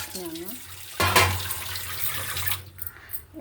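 Water is poured and splashes onto clay for a final wash, giving a splashy burst after a brief voice, then a steady trickle at close range.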